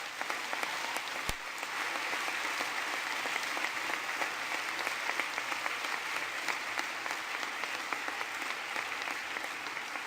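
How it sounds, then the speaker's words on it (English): A large audience claps steadily and continuously in applause for Desmond Tutu at a talk in Zurich, a dense even roar of hands that holds at a constant level throughout. "we should clap him as we clap the people of Norway for that incredible"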